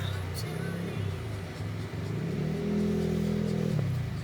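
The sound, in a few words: motorcycle arriving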